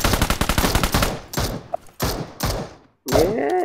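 Automatic gunfire in the mobile battle royale game PUBG Mobile, starting with a rapid burst of close, loud shots, then several shorter separate bursts, followed by a brief game sound effect at the end.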